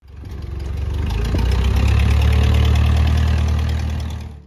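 A Ford 4000 tractor engine idles close by, a loud, steady low rumble that holds evenly throughout with no voices.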